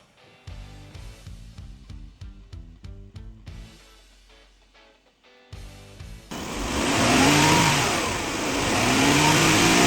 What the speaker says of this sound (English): Revving the engine pushes the fluid through faster and helps build pressure.